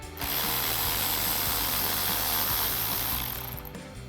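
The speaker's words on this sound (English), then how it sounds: "we're going to come here and grab our 11 mil socket on our ratchet." An 11 mm socket on a hand ratchet clicks rapidly and steadily at close range while a nut on a truck battery's positive terminal, on a 2015-2024 F-150, is loosened, with the clatter carrying on unbroken for about three seconds.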